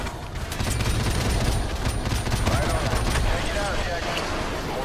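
Dense, continuous gunfire and explosions in Call of Duty 4 Remastered, rapid bursts blending into a loud rumbling battle din throughout.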